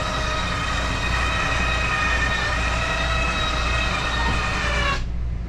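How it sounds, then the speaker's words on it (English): A 2019 Coachmen Mirada 35BH motorhome engine idles in a steady, loud drone with a constant hum, cutting off abruptly near the end, with no talk. "Engine on. We're running the engine right now."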